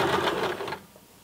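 A home sewing machine runs a long straight stitch through fleece at stitch length 4, a fast, steady mechanical whir with rapid rhythmic needle ticking, close and fairly quiet, stopping abruptly partway through.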